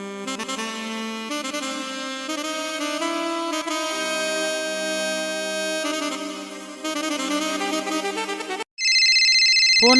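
A phone ringtone plays a bright repeating electronic melody, loud and close, briefly cutting out before switching to a sharper, higher tone.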